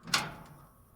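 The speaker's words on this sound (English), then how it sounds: "Let's go back and let's open the doors." Door of an Aerosoft Twin Otter aircraft opening in Microsoft Flight Simulator 2020, a single quick latch click and sliding thump, moderately close, fading into quiet cabin ambience.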